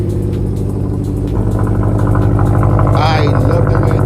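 A 2018 Subaru WRX STI turbocharged engine fires up after a push-button start and settles into a steady, loud idle, its low rumble running continuously with a brief higher whine partway through.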